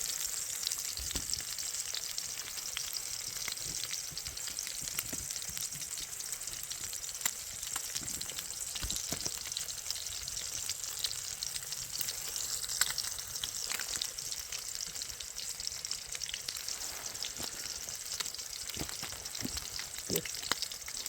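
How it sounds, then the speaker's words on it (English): Steady, crackling sizzle of food frying in a pan on a Trangia 27 camping stove, continuous and close, with scattered pops and no talking. "lovely little sizzle going on there."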